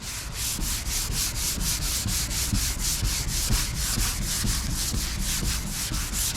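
A sanding block rubs over a car body panel up to a masked body line in steady back-and-forth strokes, a rhythmic abrasive swish repeating about every third of a second, close and alone.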